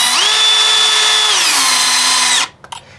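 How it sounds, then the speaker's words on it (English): A power drill drives screws into an outside tap wall plate, a loud steady whir that climbs in pitch, holds, drops back, then cuts off into a few faint clicks. "Now just do the 3 screws up."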